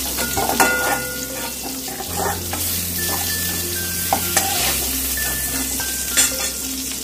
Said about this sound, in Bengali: দেখো পটলগুলো খুব সুন্দর করে ভেজে নিয়েছি,